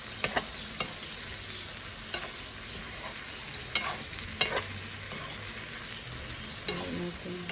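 Pancit canton noodles frying in a pan are stirred, with steady sizzling and scattered sharp scrapes and clacks of a utensil against the pan, close and alone without talk.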